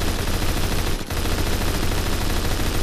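Sustained automatic fire from an HK21 machine gun in the video game Phantom Forces, a loud continuous burst with a brief break near the middle, with no voices.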